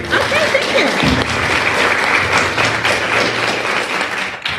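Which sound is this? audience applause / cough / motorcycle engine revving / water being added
audience applause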